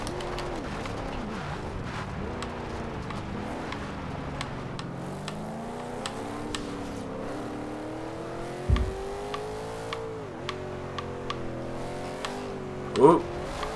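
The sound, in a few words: 2012 Ultima GTR car engine driving in Forza Horizon 2 video game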